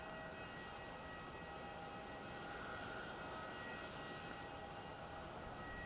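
A Qantas airliner lands on runway 16 at Melbourne Airport. A steady, distant roar of jet engines continues throughout without a break.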